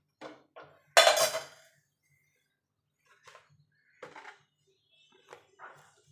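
Chopped raw mango tipped into a cooking pot for sour dal, a loud clatter of metal utensil against the pot, then a few softer scrapes and clinks separated by quiet pauses.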